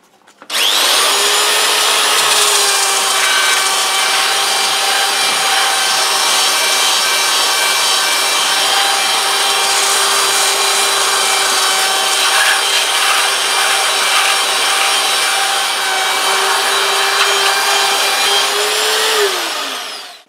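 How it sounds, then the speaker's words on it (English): A belt sander grinds down the body of a Watkins Rapier 33 guitar during a refinish, a loud, steady motor whine with sanding friction that starts abruptly and runs for about twenty seconds before winding down, close and without talk. "So we're just going to go to the belt sander just to be a lot safer."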